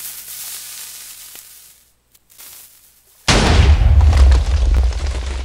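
A Minecraft bolt-action cannon fires a charge: after a quiet moment a single loud, close boom bursts out and rolls on as a broad, sustained rumble to the end.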